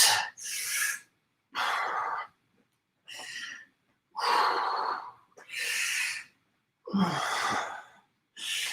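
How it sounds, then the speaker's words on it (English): Heavy breathing in and out during a bodyweight workout: six or seven separate breathy exhalations and inhalations, each about a second long with short silences between, close and fairly loud. "Breathe in, breathe out."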